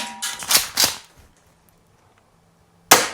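Jag Arms SPX2 Scattergun green gas airsoft shotgun firing outdoors: three sharp, loud pops in quick succession, then near silence with a faint hum before a fourth crack at the end.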